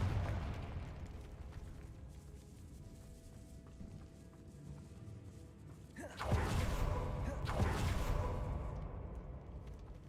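A Confringo fire spell bursts in a Hogwarts video game, a loud whooshing blast arriving abruptly midway and followed by a second surge, over low ambient background rumble.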